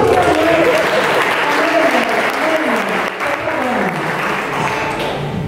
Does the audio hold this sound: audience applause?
yes